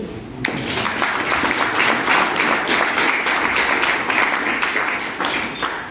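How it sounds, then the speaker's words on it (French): An audience at a World Africa Day celebration breaks into applause, a full, continuous clatter of many clapping hands that starts abruptly and stays loud throughout. "Je vous demande de vous applaudir"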